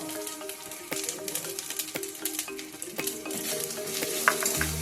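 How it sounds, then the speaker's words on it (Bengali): Turmeric and ground spices stir-fry in a pan for a vegetarian egg curry, a continuous close sizzle broken by repeated scraping strokes and clinks of a spatula against the metal pan. "মশলাটা দিয়ে আমি ভালো করে কষিয়ে নেব"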